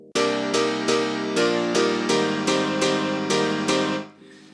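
A heavily EQed synth layer with boosted highs plays about eight bright, sharp-edged chord stabs in an even rhythm, loud and alone, then fades out.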